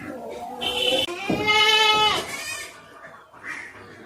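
Goats bleat repeatedly at a goat farm housed on the lower floor of a livestock building, with several loud, close, wavering cries overlapping over about four seconds.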